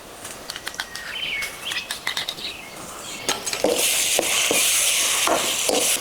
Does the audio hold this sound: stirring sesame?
yes